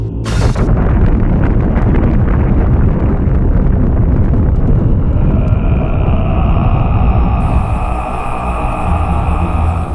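Powerful volcanic explosions of the ancient Thera eruption form a loud, continuous, roaring rumble that opens with a sharp blast and stays dense and overwhelming throughout, with a thin high tone entering late.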